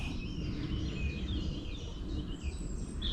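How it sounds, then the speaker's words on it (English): Birds, including a robin, chirp and trill softly over a steady low rumble of distant plane noise in London. "And you can just hear birds."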